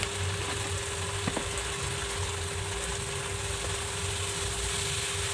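Spices with turmeric and salt fry in a pan for a hilsa fish dish, a dense continuous sizzle with a faint tonal hum running beneath and one brief clink, close and even throughout.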